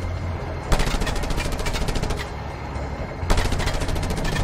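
Enemy gunfire in the video game Just Cause, a steady rapid machine-gun rattle with sharper blasts at intervals, loud and continuous.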